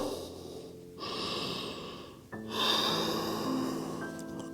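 Slow, deep yoga breaths taken while holding a forward fold, close and steady, with one audible breath cycle giving way to another and no talking.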